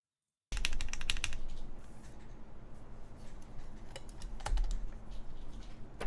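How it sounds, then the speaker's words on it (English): Keys clack on a freshly built ESU67 mechanical keyboard, a brisk burst of close typing followed by sparser, scattered keystrokes over a faint background hiss. "that sounds like a keyboard"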